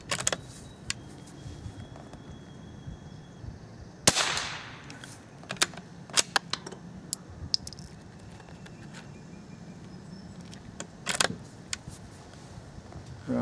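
A .22 rifle fires single rounds as sharp, isolated cracks heard near and fairly quiet, separated by long pauses filled with small clicks and handling noises.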